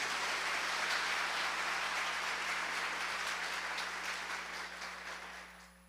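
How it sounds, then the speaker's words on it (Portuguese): Church congregation applauding after the Gospel reading, a broad, even wash of many hands clapping together that holds steady for several seconds, then fades out. "Aplauda a palavra de Deus."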